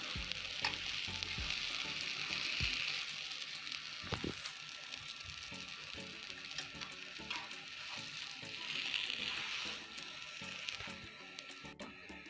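Shami kebab patties fry in a pan with a steady, hissing sizzle of hot oil that runs the whole time, swelling slightly at moments, with occasional soft clicks and taps of a utensil and no talking.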